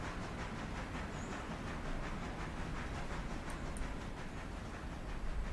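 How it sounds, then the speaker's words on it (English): A coal train rolls past on the railroad, a faint, steady rumble and rattle of wagons with light rhythmic clatter, continuous and distant-sounding throughout. "as soon as our coal train gets out of the way, we will continue."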